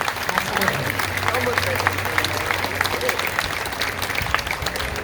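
A protest crowd gathered outdoors applauds, a dense, continuous clatter of many hands clapping, loud and steady, with voices and talking mixed in beneath it.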